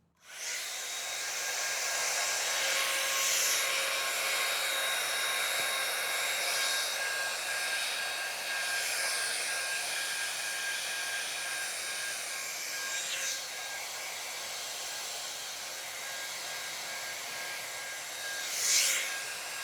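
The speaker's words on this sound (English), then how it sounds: "So I'm going to blow dry one more time here." A hair dryer blows steadily over a watercolor sunflower painting, a close, continuous airy roar with slight shifts in pitch as it moves, running alone the whole time.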